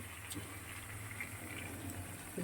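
Water pours into a cooking pot of chicken, a faint, steady gushing fill sound that runs briefly and evenly without interruption.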